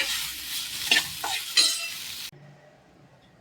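Cooked garlic rice being mixed in a pan, with close scraping, shuffling stirs and a soft sizzle for about two seconds before the sound drops to quiet.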